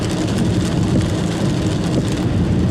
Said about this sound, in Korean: 스콜성으로 막 비가 내리니까